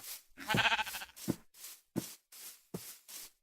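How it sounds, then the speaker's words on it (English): In Minecraft, a video game, a sheep gives a loud, wavering bleat. Several short, soft blips follow at a steady pace, and no voices are heard. "Everywhere I turn there seems to be more sheep."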